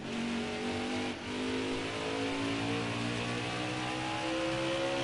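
A race car engine in NASCAR Heat 4 roaring steadily at high revs, pitch climbing, with a short dip around a gear change to fourth before the tone climbs again, loud and close.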